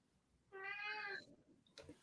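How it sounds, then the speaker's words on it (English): A house cat gives a single clear, tonal meow that lasts about three quarters of a second, quiet and close, with a soft rustle afterward. "Oh, the cat likes it."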